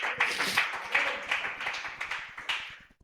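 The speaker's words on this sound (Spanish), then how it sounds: "Aplauda a Jesucristo, el único digno de adoración" A church congregation applauds in a dense burst of many hands clapping together, holding steady before fading out near the end.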